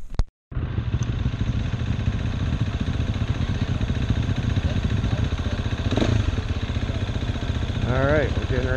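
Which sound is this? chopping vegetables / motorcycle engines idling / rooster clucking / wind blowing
motorcycle engines idling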